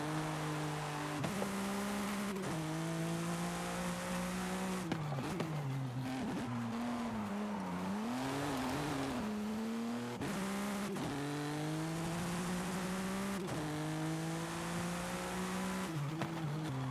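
BMW M4 GTS race car in a video game, its engine droning steadily and rising through several gear changes with brief dips, tire squeal and skidding during cornering, heard near and alone.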